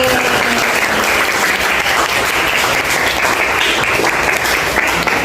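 A classroom of pupils claps together during an ice-breaking rhythm clapping game, a loud, close, sustained burst of many hands with no talk over it.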